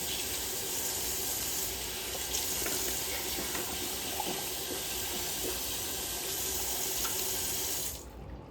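Tap water runs steadily from a faucet into a sink while someone washes their face with just water, a continuous close splashing hiss that cuts off near the end.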